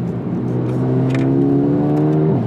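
A Mercedes-AMG A 35 accelerating in manual shift mode, the engine note climbing steadily in pitch, then a quick gearshift drops the revs before climbing again, heard close inside the car with no talking.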